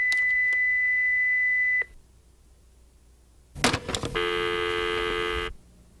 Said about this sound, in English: At the beep, please leave your name, address, phone number, and the nature of your call